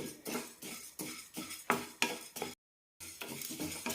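Rice roasts in a dry pan while a spoon stirs it in regular scraping strokes, about seven rhythmic passes, then a short silence before the stirring resumes.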